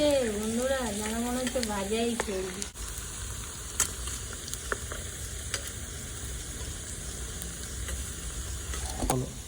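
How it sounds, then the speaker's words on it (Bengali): Chicken kofta balls fry in a pan, with a soft steady sizzle and occasional light clicks as they are turned one by one, while a melodic, music-like sound plays over the first few seconds. "এইভাবে একটা একটা করে পাল্টি করে দিতে হবে ভালো করে যাতে ভাজা হয়ে যায়"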